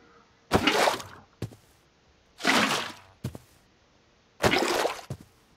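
Water poured into a Forestry machine in Minecraft's Sky Factory 3 modpack: three short, splashy bursts about a second apart, each followed by a quick click, fairly loud with quiet gaps between.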